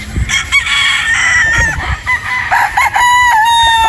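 A pure Boston Roundhead gamefowl rooster crows loudly and close, with other roosters and hens clucking and crowing over one another in a busy, continuous farmyard chorus.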